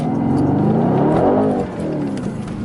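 A 2020 Mercedes-Benz C63 S AMG Coupe accelerates hard from inside the cabin, its loud engine note climbing in pitch through the revs before easing off briefly and continuing at a lower level.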